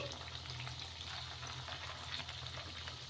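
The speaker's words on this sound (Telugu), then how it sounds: "అన్నీ వేసేసుకున్న తర్వాత హై ఫ్లేమ్లో పెట్టుకొని ఫ్రై చేసేసుకోవాలి" Small pieces of batter frying in hot oil over a high flame, giving a steady, dense crackling sizzle that holds evenly throughout with no voices.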